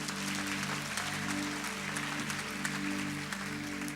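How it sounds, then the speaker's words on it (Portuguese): A church congregation applauds its visitors, a dense, steady patter of many hands clapping together for a few seconds, with a low hum beneath. "Uma salva de palmas aos nossos visitantes."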